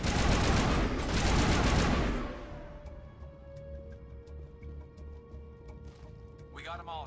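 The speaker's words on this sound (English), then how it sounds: "I'm shooting now." Dense automatic gunfire in the video game Mass Effect, a loud sustained burst of shots for about two seconds that cuts off abruptly, followed by quieter game ambience and faint speech.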